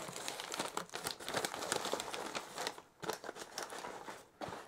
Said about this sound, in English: Let's take off some of this paper and see what we've got.